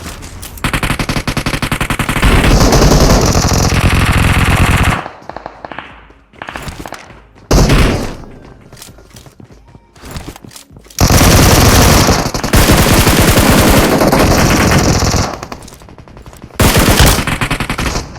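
Heavy gunfire from a PUBG Mobile match: loud, rapid automatic bursts hammer close by, broken by short pauses and quieter gaps, then several more sustained volleys.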